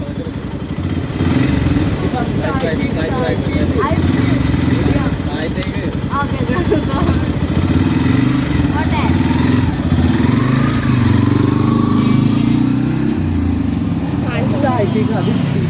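Motorcycle engine running close by, starting and then pulling away in first gear with a rough, steady idle that rises as it revs and moves off, while people talk loudly over it.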